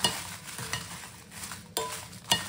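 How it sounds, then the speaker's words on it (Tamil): Dried chillies dry-roast in a pan on low heat, a spoon stirring and scraping steadily with soft rustling and faint crackle, close and fairly quiet, with no voices. "லைட்டாக அப்படியே ரோஸ்ட் பண்ணணும்."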